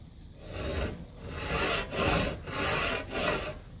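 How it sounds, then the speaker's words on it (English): Steady back-and-forth rasping of a hand saw resawing a wood board along its kerf, strokes rising and falling in a regular rhythm, close up with no voices. "I'm going to be sawing in that kerf"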